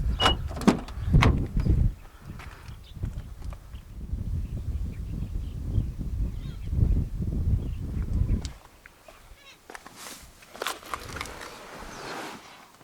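Door locks of a 2020 Honda HR-V actuating with short mechanical clunks and clicks, a few sharp thuds at the start and again near the end over low outdoor rumble.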